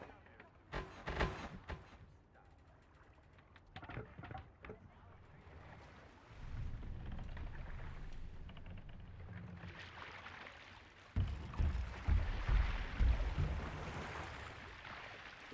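Sailing a boat through waves in Assassin's Creed Valhalla: rushing water and wind surge around the vessel, with splashing swells that build loudly near the end, and no talk over it.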